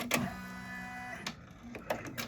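Embroidery machine stitching a design onto an adult T-shirt, a steady mechanical whir with sustained tones broken by several sharp clicks and thumps, close and alone.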